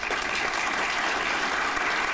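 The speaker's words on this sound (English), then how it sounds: "I ask you to give her a round of applause" A crowd applauding at an awards ceremony, with steady, dense clapping that holds at an even level throughout, and no voices.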